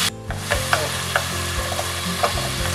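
Tomatoes sauté in a pan for egg biryani, a close, steady sizzle punctuated by several sharp spoon scrapes and stirring knocks.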